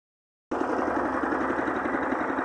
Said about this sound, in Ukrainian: Зараз пилочку прогрію